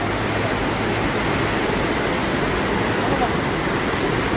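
A waterfall makes a steady, broad rushing hiss that stays even and close throughout, with no breaks.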